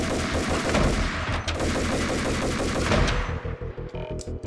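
Sustained gunfire in the PC game Max Payne, rapid rhythmic shots layered over a dense, loud battle din that thins near the end, leaving a few isolated reports.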